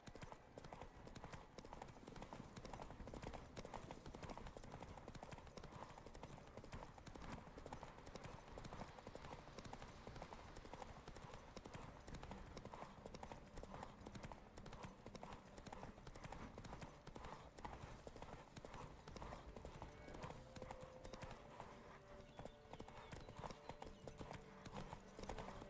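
Roach, the horse in the video game The Witcher 3, gallops in a continuous, fast, rhythmic clip-clop of hooves that runs for the whole stretch at a faint, steady level, with no talk over it.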